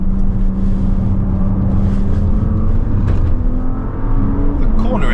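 A 2025 Audi S5 pulls through corners at speed, its engine holding a steady loud drone with rising pitch under acceleration, tire and road noise beneath it, while the driver talks over the cabin sound.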